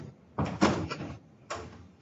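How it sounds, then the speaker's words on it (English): A classroom door is pushed shut with a few dull wooden bumps and rattles as it meets the frame, then a softer knock a moment later, close and moderately loud in a quiet room. "I have to close the door because I'm loud."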